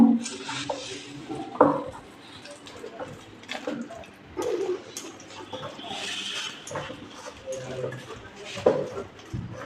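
Lentil paste mixed by hand with turmeric and black cumin in a bowl, giving soft squelching and scraping with occasional clinks against the bowl, heard under steady speech.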